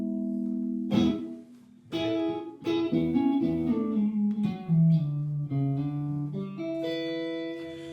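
Electric guitar notes and chords ring out with a washy reverb tail, played slowly and alone at moderate volume.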